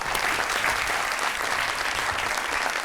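Studio audience applause on a television comedy talk show, loud and steady throughout with dense clapping and no talk.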